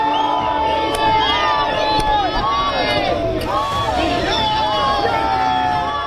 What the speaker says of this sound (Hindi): जहां पर पीएम मोदी के स्वागत के लिए भीड़ लगी हुई थी।